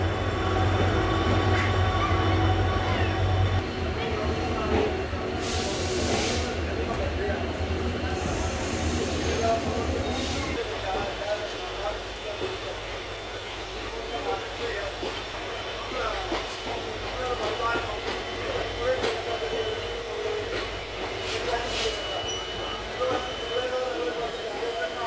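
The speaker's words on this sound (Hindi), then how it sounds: "निकल चुकी है हमारी train Firozpur cantt railway station से।" Express train 04998 from Ferozepur Cantonment to Ludhiana pulls out of Ferozepur Cantt station on a hot day, its heavy, steady rumble and wheel noise filling the whole stretch, with a faint voice now and then underneath.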